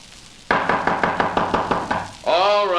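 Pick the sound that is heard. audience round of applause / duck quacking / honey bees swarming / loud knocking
loud knocking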